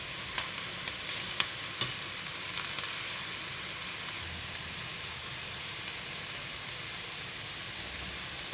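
Butterflied shrimp sear on a hot pan, giving a steady, close crackling sizzle with faint scattered pops and no voices.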